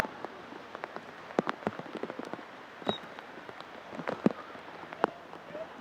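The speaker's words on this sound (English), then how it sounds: "a rainy, cool, raw day here" Rain patters steadily on an outdoor field during a cool, raw girls' varsity lacrosse game, with scattered sharper drops and taps over a soft hiss, and no voices.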